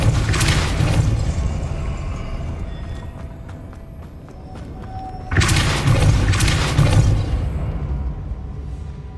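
Depulso spell cast in the video game Hogwarts Legacy: a loud booming burst with rumbling decay, followed after a quieter stretch of faint tones by a second heavy whoosh-and-boom impact.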